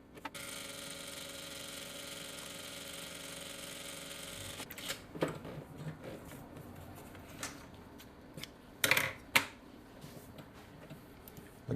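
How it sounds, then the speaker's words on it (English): A Vevor M2 industrial sewing machine stitches a bag strap, running with a steady whirring hum for about four seconds, then stopping; scattered clicks and handling knocks follow. "We want to move this over to this side and sew back in the same direction."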